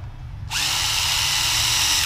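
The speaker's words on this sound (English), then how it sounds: "Now what I do is drill a little here." After a brief low hum, a power drill whirs to life drilling a small hole and keeps spinning at a high, steady whine, loud and close.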